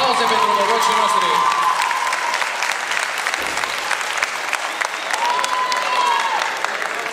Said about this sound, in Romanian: Aplauze pentru norocii noștri.